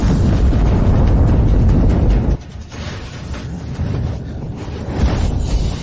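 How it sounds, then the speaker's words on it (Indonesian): A loud, roaring blast rumbles for about two seconds, then drops off into a lingering, noisy rumble with gusty swells. "Meledak."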